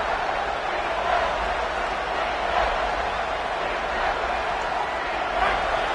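Football stadium crowd roaring steadily in support of the defense during a red-zone stand, a dense, continuous wash of cheering with slight surges throughout.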